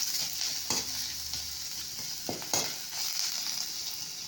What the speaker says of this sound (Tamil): 1/4 ஸ்பூன் மிளகாய், இஞ்சி கொஞ்சமாக வாசனைக்காக போட்டுட்டு இதை நல்லா ஃப்ரை